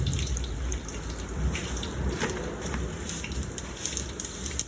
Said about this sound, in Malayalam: നമ്മൾ കടുക് ഇടുകയാണ്.